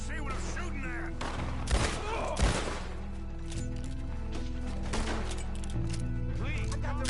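Gunfire in the Red Dead Redemption 2 video game, a few sharp shots spaced apart over a steady musical score, with a character talking between the bursts.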